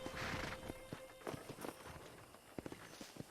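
Wild horses in the Red Dead Redemption 2 video game: a horse whinnies at the start, then scattered hoofbeats clop at an uneven pace, fairly close, over a steady ambient wash.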